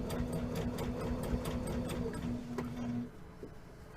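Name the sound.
sewing machine stitching a tote bag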